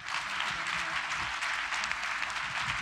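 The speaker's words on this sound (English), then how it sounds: "A big applause for Thomas Saraceno." An audience at an art and technology talk event applauds, a dense, even wash of clapping heard at a moderate distance and sustained throughout.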